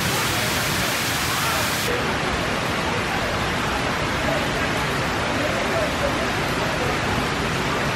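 Heavy rain at EPCOT during the Food & Wine Festival pours down around a covered spot, a loud, dense, unbroken hiss that holds steady throughout.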